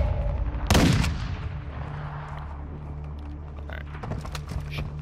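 Gunfire in Warzone 2 on the Al Mazrah map, a loud sharp blast near the start followed by scattered fainter distant shots over a low steady ambient hum.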